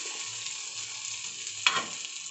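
Fish fries in a pan at a steady, close hiss. Midway a brief louder sizzle flares up as the fish is turned, then the frying settles back to its even level.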